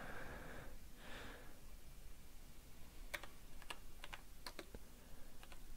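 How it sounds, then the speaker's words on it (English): Quiet typing on a computer keyboard, close by: a few soft taps early on, then a burst of sharp, separate keystrokes in uneven rhythm with faint breathing underneath. "I gotta switch to my Hebrew keyboard."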